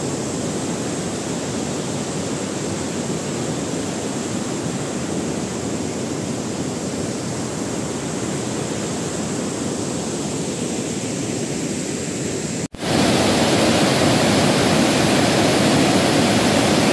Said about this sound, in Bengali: খুব সুন্দর ফলস, আর যেহেতু বর্ষাকাল তো প্রচুর জল